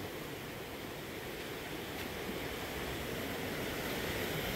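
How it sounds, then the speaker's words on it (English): Steady rushing water at a waterfall in Canada, a continuous broadband roar heard from nearby with no pauses and no talk. "the water flows"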